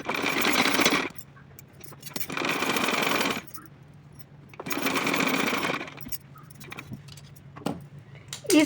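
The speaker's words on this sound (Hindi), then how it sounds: "इस तरह से दोनों साइड की किनारी को मैंने सिलाई करके कंप्लीट कर दिया है" A sewing machine stitches the edges of a small cotton deity dress in three steady whirring runs of a second or two each, close and clear, with quiet handling noise in the pauses.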